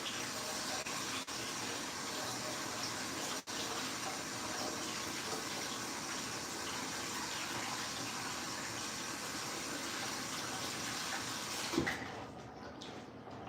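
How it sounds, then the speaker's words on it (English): Cold water runs steadily from a kitchen tap during pie baking, a continuous broadband rush lasting most of the time before cutting off near the end. "Now I'll use this opportunity for a little cold water."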